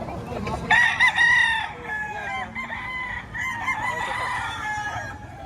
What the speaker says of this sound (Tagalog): Magagandang mga manok to mga idol yan.